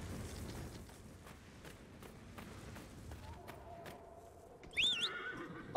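In Dragon Age: Inquisition, quiet hoofbeats and soft rustling lead into a loud, high horse whinny near the end, followed by a sharp burst.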